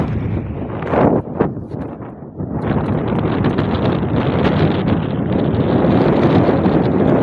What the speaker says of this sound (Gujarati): પવનનો અવાજ મિત્રો છે ને ઇગ્નોર કરી દેજો